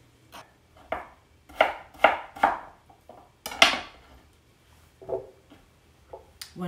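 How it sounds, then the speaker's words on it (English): The tip of a spoon scraping the skin off fresh ginger, close and dry: a series of short irregular rasping strokes, several louder bursts clustered early, then quieter scrapes, with no talking. "scraping with the tip of the spoon, scraping the skin off the ginger"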